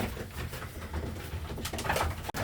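Pigeons coo softly near a loft, with several low, throaty calls close by over a background hum, followed by a brief sharp clack at the end.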